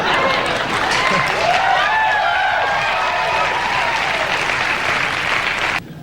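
A studio audience at a comedy show reacts with loud, sustained applause mixed with whoops and scattered jeers, the crowd noise filling the room before dropping off sharply at the end.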